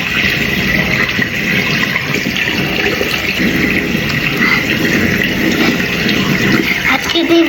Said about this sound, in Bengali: এখন আমি মুখটা ধোবো।